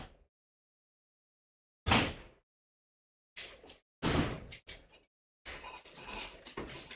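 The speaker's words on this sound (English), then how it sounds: "my dog's begging to be let back in" A dog whimpers and bangs on a front door in a series of separate heavy thumps and rattles, starting with one knock and growing into clustered bangs with brief whines, close, with silence between bursts.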